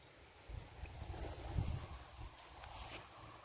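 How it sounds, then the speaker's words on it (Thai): Wind gusting through a forest during rain on a fishing outing, a faint, soft broadband rush with low rumbling gusts that swell around the middle. "มันลมเลยเนาะ เนี่ยฝนตกนะ"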